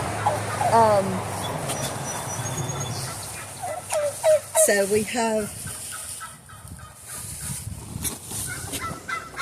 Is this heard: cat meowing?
no